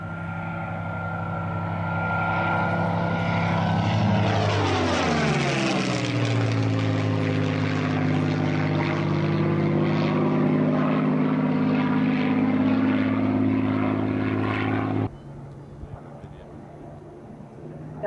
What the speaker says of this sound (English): listen to the roar of that beautiful Merlin engine as the Grey Spitfire comes in for a head-on pass